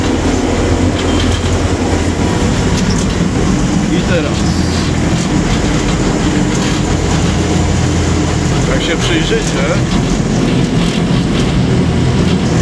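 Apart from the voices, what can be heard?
Geda PH650 hoist running downward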